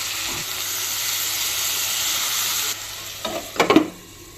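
Yardlong beans with salt and turmeric fry in a pan, a steady close sizzle that drops somewhat in level partway through, followed by a cluster of sharp scraping and clattering utensil strokes near the end, with no voices.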